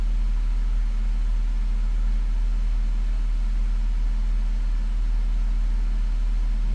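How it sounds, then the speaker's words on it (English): A 2013–2015 Jeep Grand Cherokee engine idles steadily after a wiring harness repair, a constant close low hum with an even drone and no variation. "Looks like it's idling pretty smooth."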